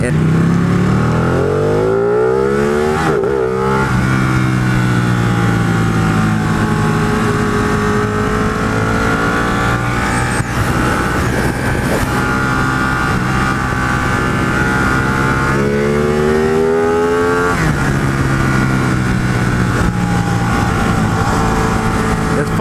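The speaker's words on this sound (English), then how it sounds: "It's fun to feel the engine growl when you're on the freeway" A motorcycle engine revs loudly and close, its pitch sweeping up and down through several gear changes over a steady throaty growl.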